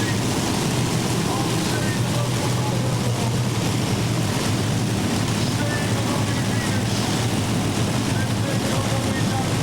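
A 7,200 horsepower pulling tractor called Fox charging down the track at an indoor European tractor pull in Zwolle, Holland in 1996, a dense, constant, loud engine roar with broadband noise and a commentator's voice over it.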